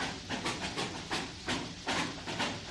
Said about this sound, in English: Those chuffs, steam blowing out of there